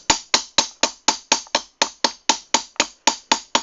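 A hammer strikes sheet metal in a steady, even rhythm during armor-making, roughly four blows a second, each a sharp ringing tap heard close and alone.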